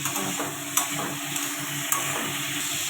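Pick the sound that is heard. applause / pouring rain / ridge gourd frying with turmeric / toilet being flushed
ridge gourd frying with turmeric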